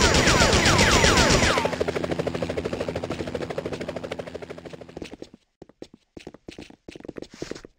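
Helicopter machine gun fire in the 2000 Spider-Man PS1 game rattles as a dense rapid stream, loud at first with rotor-like pulsing, then thinning into scattered bursts.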